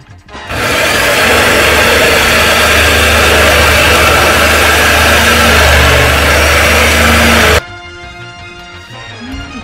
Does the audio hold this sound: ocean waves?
no